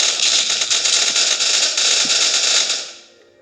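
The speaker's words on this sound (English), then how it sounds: "All those explosions." Rapid crackling barrage of explosions from the zombie survival game Zombie Simulator Z, a dense continuous burst of pops and blasts that holds loud for about three seconds before fading away.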